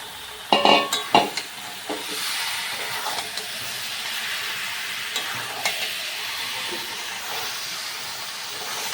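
Marinated chicken with spices and potatoes is stirred and fried in a pan, with a few loud clanks of a spoon at first, then a steady close hissing sizzle and occasional light knocks.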